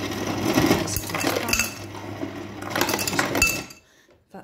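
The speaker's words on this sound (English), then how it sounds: "if I want some cube or some ice cubes, what I do is I just press that, and then there it goes." Ice cubes drop from the dispenser of a Hisense double-door fridge freezer with water dispenser into a glass, a loud rattling clatter in two bursts before the flow stops.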